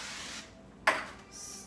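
Avocado oil cooking spray hisses onto a skillet on a stove as one short, sharp burst that tapers off, set against a quiet kitchen background.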